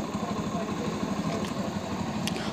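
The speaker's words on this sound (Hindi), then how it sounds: "इंजन की आवाज़ काफ़ी बढ़िया है।" Hero motorcycle engine running at a steady idle after a timing chain replacement, an even, close mechanical putter with a fine rhythmic pulse and no talk.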